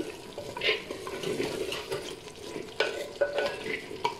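Goat trotters with spices frying in oil in a pot are stirred, producing close scraping and wet sizzling with irregular clatters of the spoon against the pan.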